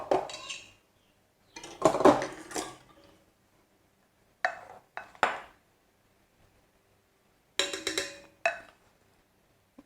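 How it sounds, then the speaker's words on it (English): A stand mixer attachment being swapped, heard as a few separate bursts of metallic clanks and clicks, close and fairly crisp, with quiet pauses between them. "So I'm going to switch the attachment now."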